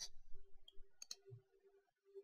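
Several sharp, quiet mouse clicks while navigating the XBMC setup menu to add a video add-on, with a faint steady hum underneath and no talking.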